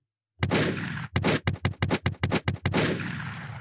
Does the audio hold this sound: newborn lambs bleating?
no